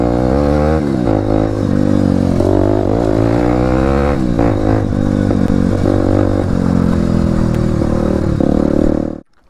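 A motorcycle engine hums and revs close by throughout a ride, a steady, loud drone with rising and falling pitch and some rattling clatter, without any talking, ending abruptly.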